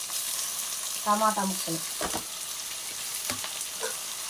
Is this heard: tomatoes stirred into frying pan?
yes